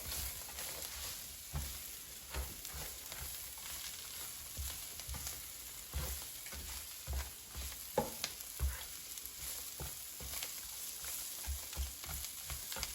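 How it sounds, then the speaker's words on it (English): Bacon pieces stirred into cabbage frying in a pan, giving a steady sizzle with repeated soft scraping and stirring knocks close by, no voices. "So add cooked bacon and mix it together."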